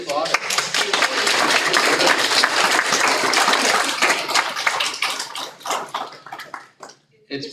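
A school board meeting audience breaks into dense applause that swells, holds for several seconds and then thins into scattered claps, with voices mixed in.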